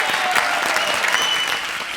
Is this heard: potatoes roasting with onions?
no